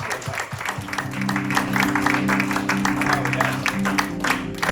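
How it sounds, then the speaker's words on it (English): An audience applauds at a live poetry Q&A event, a steady mass of clapping lasting throughout, with sustained low tonal sounds, like a held musical chord, running beneath it. "another round of applause"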